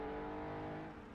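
A vintage race car engine on a road course on the Isle of Man blips its throttle once, a brief, loud, sustained rasp that fades slightly at the end.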